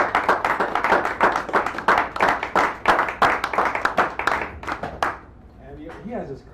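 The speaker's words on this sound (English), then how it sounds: "give him a round of applause." A small café audience at a poetry open mic claps in distinct, close bursts for a few seconds, then the clapping stops and a voice speaks.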